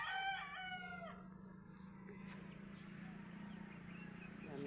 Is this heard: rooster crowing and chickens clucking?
yes